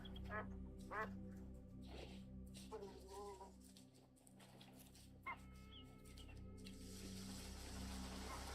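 A mature duck quacks in a hunting game's woodland soundscape, a handful of short nasal quacks spread across the clip, faint and somewhat distant over steady ambient hum, with no talk over them.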